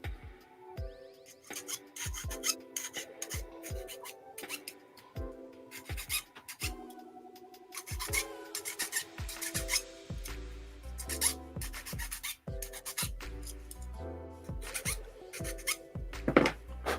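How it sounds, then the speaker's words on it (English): Rasping scrapes of sanding down a peg on a plastic model kit, short repeated strokes in uneven bursts with brief pauses, close and fairly quiet with no voices. "Should I sand that peg down a little bit?"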